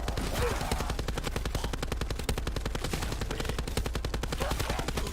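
Automatic weapon fired from the hip in a video game, a rapid, evenly spaced stream of loud shots running unbroken for about five seconds.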